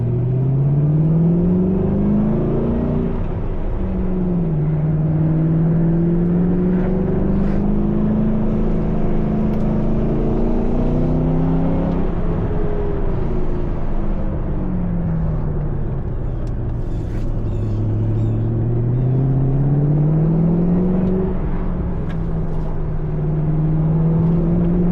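A 2006 Ford GT sports car driving on a hilly road, its engine note loud and close, rising and falling steadily as it revs up and eases off in long sweeping waves with no talk over it.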